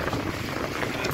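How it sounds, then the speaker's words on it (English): Strong wind of about 20 knots roars across a sailboat running under spinnaker, a continuous broadband rush with buffeting against the microphone. "20, maybe a bit more, 20 knots of wind."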